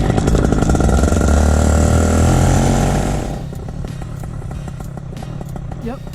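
A BlackHawk Lite 125 paramotor engine roars loudly up close while warming up, then drops to a lower, rattling idle after about three seconds.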